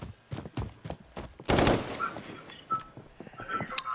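Sniper rifle gunfire in the video game Call of Duty: Modern Warfare, with a loud burst of shots near the middle of the clip amid several sharper, quieter cracks spread throughout.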